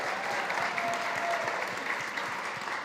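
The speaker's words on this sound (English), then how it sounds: "Give him a round of applause." An audience applauds steadily, a dense wash of clapping that holds at an even level throughout.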